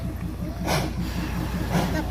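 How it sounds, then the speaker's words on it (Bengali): A steam locomotive departs at Darjeeling's Batasia Loop, giving two broad, hissing chuffs about a second apart over a low rumble and faint crowd murmur. "স্টিম ইঞ্জিন ছাড়ছে।"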